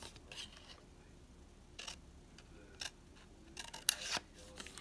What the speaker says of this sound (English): take our scissors and we will cut out the part that we just marked